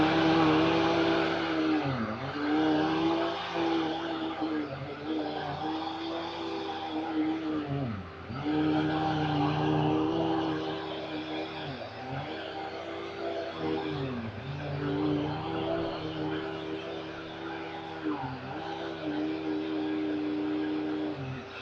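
A Dirt Devil MVP upright vacuum cleaner, model DU8320, runs with a steady whining motor hum that dips and swells in pitch every few seconds as it is pushed back and forth. It is fairly close and has no talking over it.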